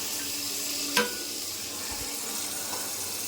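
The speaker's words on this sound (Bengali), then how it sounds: "তেল গরম হয়ে গেছে, এখন তেলের মধ্যে" Capsicum drops into hot oil in a pan, a sharp clack followed by a steady low sizzle that carries on alone, close and moderately quiet.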